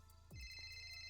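A phone ringtone in GTA NoPixel roleplay chimes in a short, bright repeating electronic tone, faint and close, with no talk over it.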